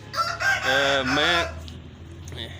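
A rooster crows loudly nearby, one long drawn-out call with a rising and falling tone, followed by faint background noise.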